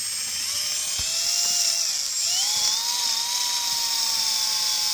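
Power sander working over an aluminum wheel on a 1972 Dodge truck, a steady high whining grind that holds throughout with slight pitch shifts, close and loud, no talking.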